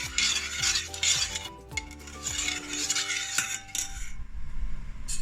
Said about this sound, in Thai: โอเคเราก็เคี่ยวผสมไปเรื่อย ๆนะคะ จนมันเริ่มข้นนะคะ